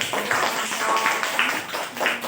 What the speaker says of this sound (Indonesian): Kalau gitu kasih tepuk tangan ya